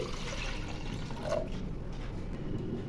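Water poured into a pressure cooker holding washed chana dal makes a continuous close gush and splash of liquid, steady throughout with slight swirling changes.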